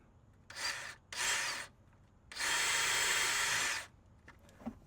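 Power drill boring into a metal exhaust manifold on a Ford Sport Trac, heard as two short whirring bursts followed by a longer steady run, close and fairly loud, with no one speaking.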